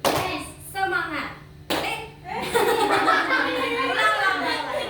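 A classroom of children claps in unison, a single sharp clap that stands out between bursts of children's voices and giggling.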